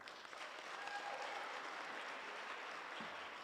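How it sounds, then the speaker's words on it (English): An audience at a municipal gathering claps hands in a dense, continuous round of applause, heard fairly faint and distant with no voices over it. "I would clap hands."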